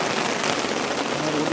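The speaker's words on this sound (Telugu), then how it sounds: "వర్షం అయితే పడుతూనే ఉంది ఫ్రెండ్స్." Heavy rain pours steadily, a dense, continuous hiss of drops striking surfaces close by, unbroken for the whole moment.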